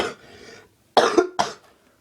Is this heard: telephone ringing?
no